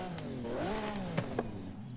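A Lamborghini Aventador SVJ V12 supercar in the video game Forza Horizon 5 revs up, its engine note rising and falling in a smooth sweep with a couple of sharp crackles near the end.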